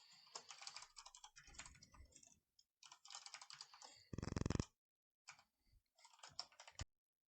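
Code being typed on a computer keyboard: quiet, close bursts of rapid key clicks broken by short pauses, with one louder stretch of fast presses, no talk.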